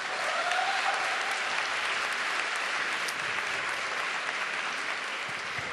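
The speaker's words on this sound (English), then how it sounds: "Should we give another round of applause to Dr. Wong?" Sustained applause from a seated audience at a school lecture event, a dense, even clatter of many hands clapping that holds steady throughout without talk.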